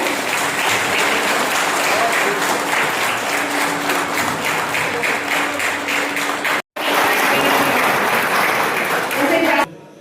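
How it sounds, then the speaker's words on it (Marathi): Loud, sustained applause from a crowd at a municipal council ceremony in Wardha fills the space, with a brief dropout near the end before it tapers off. "एकदा जोरदार टाळ्या होऊ द्या."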